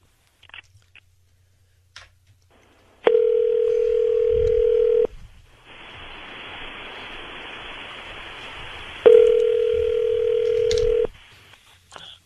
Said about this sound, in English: Here we're dialing him now.